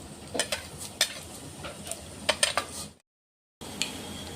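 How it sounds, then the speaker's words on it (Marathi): Cumin seeds drop into hot oil with mustard seeds for a Khandesh-style spinach masala khichdi, giving a fine crackling sizzle with sharp spoon scrapes and clinks, then a short silent gap before the frying resumes. "तेल गरम झालेलं आहे. आपण आता जिरे टाकतोय."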